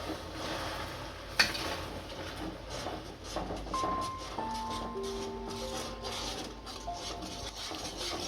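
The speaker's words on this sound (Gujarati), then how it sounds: "આમાં 1 વાટકી દૂધ નાખીશું. અને હલાઈ નાખીશું સારું." Milk stirred into melted sugar in a pan for halwa, heard as a faint, continuous scraping and stirring with light sizzling, plus a sharp utensil clink early on and some soft tonal background hum.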